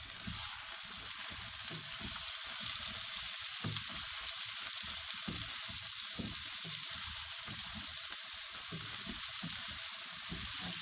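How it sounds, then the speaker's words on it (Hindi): Bitter gourd fries in a pan with tomato, salt, turmeric and black pepper, producing a steady, even sizzling hiss that runs unbroken from start to finish. No voices are heard. "टमाटर गलने तक फ्राई करेंगे।"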